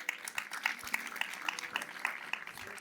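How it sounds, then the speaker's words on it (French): Audience clapping at an award ceremony for customer satisfaction prizes, a steady soft patter of many hands at moderate distance, continuous for the whole stretch without voices. "On les applaudit très fort."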